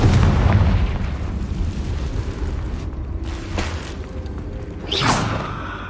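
A Confringo blasting curse in a Harry Potter video game: a loud booming explosion opens into a rumbling tail, followed later by a sharp whooshing burst.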